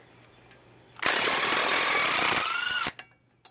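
An impact wrench hammers loose a 36 mm axle nut on a Jeep XJ, one sustained loud rattling burst lasting about two seconds that stops abruptly, preceded and followed by quiet workshop ambience.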